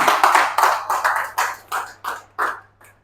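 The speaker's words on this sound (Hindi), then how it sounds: "आइए, सर के लिए एक जोरदार तालियां होनी चाहिए।" In a classroom, a group applauds a teacher with a run of sharp, separate hand claps in a loose, uneven rhythm, close by and fairly loud, that slow and trail off near the end.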